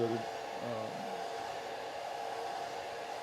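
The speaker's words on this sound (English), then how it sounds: "So I'm going to dry the paint." A hair dryer blowing steadily on wet watercolor paint on a painting, a soft continuous whir at moderate distance that runs unbroken through the clip, with faint talk at the start.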